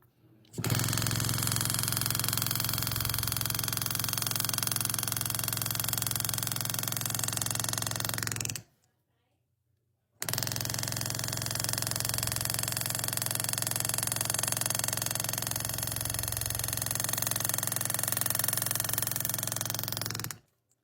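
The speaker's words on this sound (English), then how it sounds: "So as you see, you can still cut pretty nice in the steel." A KATWAY engraving machine drives a carbide graver through steel, giving a loud, steady, rapid buzzing hum in two long runs separated by a short silent pause, with no talking.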